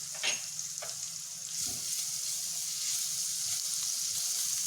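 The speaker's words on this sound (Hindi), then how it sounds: "ये लहसुन और अदरक हमारे भुन गए हैं अच्छे से" Grated garlic and ginger fry in a pan over a low flame, giving a steady, close sizzle with a few soft stirring scrapes and no talking.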